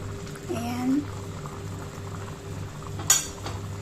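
Chicken simmering in a covered pot for Thai curry, a steady low bubbling with a soft tonal whine and a brief metallic clink near the end, heard close and fairly quiet.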